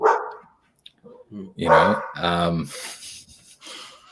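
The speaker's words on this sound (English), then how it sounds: "a dog next door. It's just set my door off." A dog next door barks in a few sharp, loud bursts heard indoors, mixed in with a person talking nearby, the barks clustered mid-clip amid pauses and chatter.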